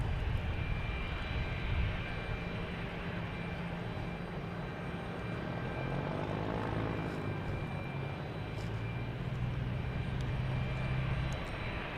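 A JetBlue jet airliner takes off from runway 27 at Boston Logan, heard from a distance as a faint, steady broadband roar that holds for the full stretch without any voices.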